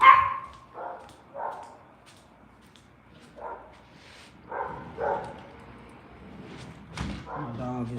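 A dog barks in repeated short bursts, moderately close, with yips toward the end, while someone talks in between.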